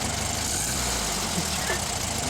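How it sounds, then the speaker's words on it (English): A steady mechanical rumble drones on without pause, loud and close, like a running appliance motor with a constant low hum and hiss. "This is my dryer for the last 4 years."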